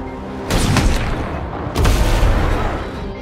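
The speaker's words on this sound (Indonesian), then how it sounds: "ternyata ada sniper lain yang menembak Abbott" Two heavy sniper rifle gunshots in an action film, about a second apart, each a loud booming crack with a rumbling tail.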